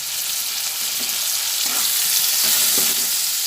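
Ground ginger paste and spices fry in oil with a bright, continuous sizzle, punctuated by a few soft knocks and scrapes from a stirring spoon, close and without talk.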